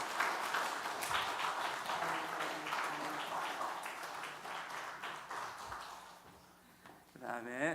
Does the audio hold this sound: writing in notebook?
no